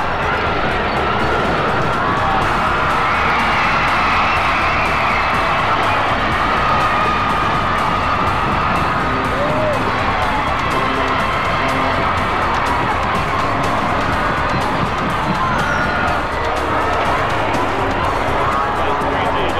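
A large stadium crowd on the home side cheers and roars continuously after the last play of a 1995 high school state championship football game, loud and sustained with whoops and shouts.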